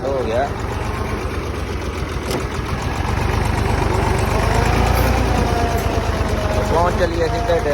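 A farm tractor idles close and loud, its diesel knock a rapid, even chug that swells slightly partway through, with voices talking over it.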